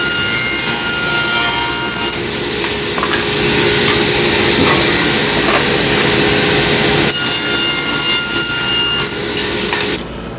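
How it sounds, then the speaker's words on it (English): A table saw rips a planed cedar fence picket into 1-inch strips: a loud, steady whining cut that runs continuously for several seconds, dips briefly, then resumes before the blade spins down at the end. "we're going to cut it into 1-inch strips on the table saw"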